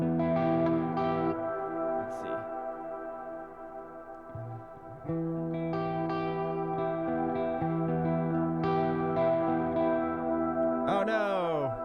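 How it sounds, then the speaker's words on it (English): Music pushed through heavy distortion, with thick harmonic layers sustaining throughout and a sudden pitch-bending swoop near the end; a voice speaks briefly over it. "let's put as much distortion as possible"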